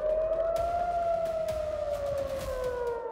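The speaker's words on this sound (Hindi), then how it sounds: "इजराइल में शुक्रवार से अब तक कई बार एयर अलर्ट का सायरन बज चुका है।" An air raid alert siren in Israel wails as one long, sustained tone that slowly rises and then falls, heard alone and fairly distant, with no voices.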